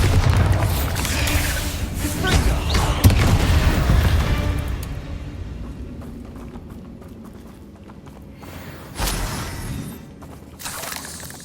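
A Bombarda explosion spell goes off in Hogwarts Legacy: a loud, dense burst of blasting and crumbling rumble that fades over several seconds, followed later by a sharper secondary thump and scattered debris sounds.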